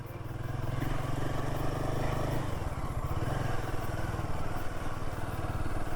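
A Royal Enfield Himalayan 450 motorcycle being ridden in Kutch, Gujarat, its engine droning loud and steady from close by with a throbbing low rumble and mechanical clatter, without speech.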